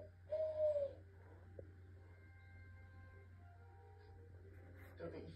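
A person imitates an owl call to a border collie: one brief, clear, near hooting coo, followed by a few seconds of quiet room hum and faint movement.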